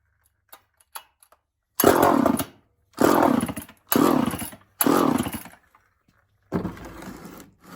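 A Homelite EZ chainsaw, long out of use, is started with several pull-cord attempts: four loud, rasping bursts of about a second each sputter and die. A longer, rougher run follows near the end.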